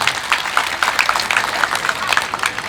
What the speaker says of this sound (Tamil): ஒரு நல்ல கைத்தட்டு.